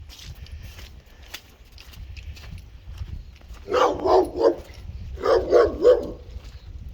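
A visiting Malinois barks close and loud in two quick bursts of several sharp barks each, with faint footsteps and quiet shuffling before them.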